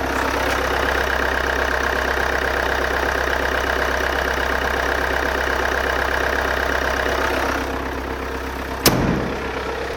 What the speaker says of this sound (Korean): 엔진음 들려드릴게요.